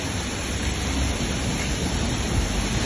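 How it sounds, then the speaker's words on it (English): Heavy rain pours steadily outdoors at a Western Sydney sewer pipe relining dig site, making a dense, loud, continuous hiss and roar with no pauses or voices. "Pouring with rain."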